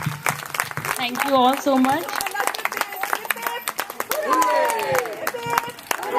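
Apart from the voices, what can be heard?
audience applause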